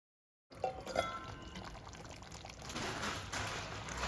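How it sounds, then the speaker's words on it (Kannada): A small amount of water poured into ground masala for a Mangalore-style chicken dish, a quiet steady trickle and splash after a brief silence, close and faint with no talk. "ಅದಕ್ಕೆ ಸ್ವಲ್ಪ ನೀರು ಹಾಕಿ ಇದಕ್ಕೆ ಹಾಕ್ಬೋದು"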